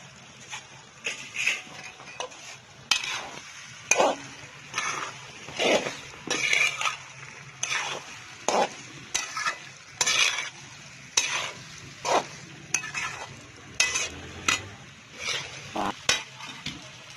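Fried potatoes being stirred into chicken macaroni in a pan, with a rhythmic series of close scraping spoon strokes over a soft sizzle and occasional clinks against the metal, no talking.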